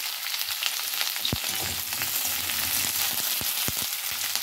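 Tomatoes added to a hot pan of capsicum for muri ghonto crackle and sizzle steadily, with sharp pops and spatters scattered through the hiss; no voices.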